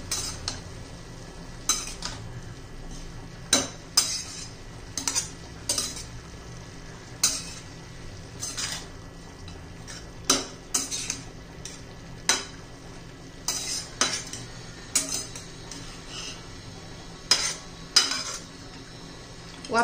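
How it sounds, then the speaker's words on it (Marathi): A cabbage and vegetable mix is stirred in a pan with a spoon, making sharp scrapes and clinks every second or two over a faint, steady sizzle. "आता व्यवस्थित मिक्स करूया."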